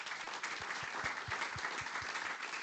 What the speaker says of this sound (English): So please join me in a round of applause for our panelists.